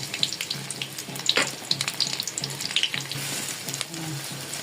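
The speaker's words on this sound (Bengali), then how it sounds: "পেঁয়াজ দিয়ে নাড়াচাড়া করছি" Chopped onions fry in a blend of soybean and mustard oil for a rohu fish bhuna, giving a steady, close crackling sizzle with a few faint scrapes and clinks of stirring throughout.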